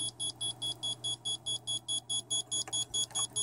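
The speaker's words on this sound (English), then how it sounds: "The flight controller is beeping." A racing quadcopter's flight controller beeps rapidly at a regular high pitch, about four per second, repeating steadily with a faint hum underneath.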